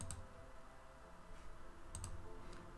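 A computer mouse clicks a few times while someone works in design software: soft, sharp taps spaced apart, the first near the start and a quick pair later, over a faint hum.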